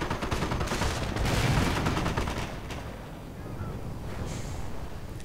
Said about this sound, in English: Incendiary grenades, a parting gift.